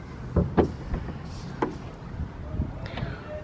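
The front trunk of a twin turbo Lamborghini Huracan opens with a few close latch clunks and thumps, followed by a soft whooshing lift.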